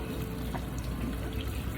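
Water runs steadily from a faucet over someone's scalp during a head spa hair wash, a continuous close splashing hiss throughout.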